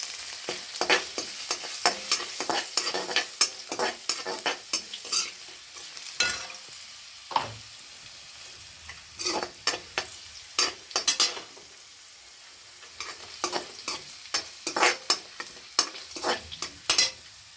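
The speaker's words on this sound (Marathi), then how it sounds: "हा बारीक चिरलेला लसूण घालूया आणि हा चांगला लाल गुलाबी रंगावर असा परतून घेऊया" Finely chopped garlic fries in hot oil in a pan while being stirred, with repeated close scraping strokes in uneven bursts over a soft background sizzle, pausing now and then.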